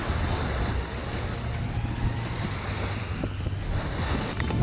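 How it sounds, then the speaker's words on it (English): A sailboat, a Pearson, pounds through choppy sea under sail, with steady rushing water, wave slap and heavy wind buffeting the microphone, a continuous moderate wash with no talk. "We are pounding through a sea right here."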